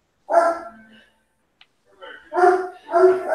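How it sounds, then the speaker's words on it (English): A dog barks in short separate bursts, one lone woof followed by a gap and then two quick loud barks close by, with nothing else to be heard. "There goes the dog"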